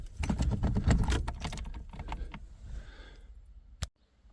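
A set of cut car keys jangles and clinks close by for a few seconds, the rattling fading out, then one sharp click before silence.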